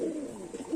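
A flock of loft pigeons coos softly in low, overlapping murmurs that rise briefly near the end, with no voices.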